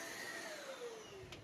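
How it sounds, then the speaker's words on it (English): A vacuum cleaner runs steadily up close, suctioning out the inside of a portable clothes dryer with its drum removed, a continuous whine with a slowly falling tone and a brief hiss of airflow near the end. "take this opportunity to vacuum out the dryer more thoroughly"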